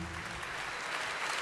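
Live concert crowd applauding for a featured singer at a show, a dense steady wash of clapping and cheering sustained throughout at close range.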